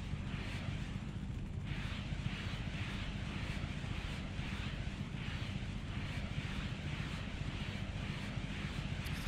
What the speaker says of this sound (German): Und dieser eine Jet, der regt mich ein bisschen auf, ey.